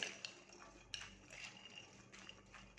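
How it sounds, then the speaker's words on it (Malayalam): A spoon mixes a bean sprout and avocado salad dressed with olive oil, making a few light clinks and scrapes against the bowl amid soft stirring, quiet and close. "ഇതൊന്ന് മിക്സ് ചെയ്യാം നമുക്ക്."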